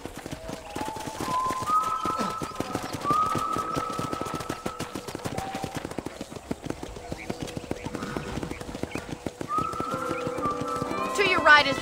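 Horse hooves clop in a quick, steady rhythm while riding in the Red Dead Redemption video game on PS4, close and continuous under people talking.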